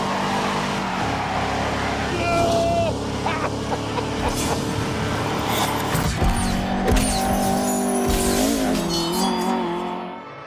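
A high, buzzy twin-cam 1.6-litre car engine in a racing video game revs hard and continuously, pitch climbing and dropping with gear changes, with tire squeals, under someone talking throughout.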